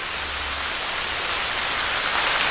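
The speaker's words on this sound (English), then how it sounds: "And it's starting to rain again." Steady rain falls at a campsite, a dense, even hiss that swells slightly louder toward the end, with no voices.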